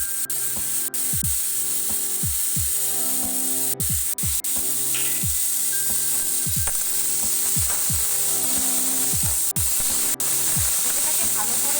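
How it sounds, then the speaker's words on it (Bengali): Papaya sizzles and fries with moong dal in a pan, a steady hissing crackle running throughout, broken by occasional clicks and clatter of stirring. "পেঁপেটাকে ভালো করে ভেজে নিতে হবে"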